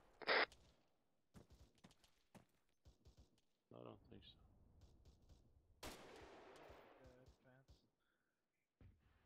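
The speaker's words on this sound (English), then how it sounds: "That's friendly shooting from north, right?" Friendly gunfire in the military shooter Arma 3, heard as scattered sharp shots and short bursts from mid-distance, with one loud crack near the start, under intermittent radio-style chatter.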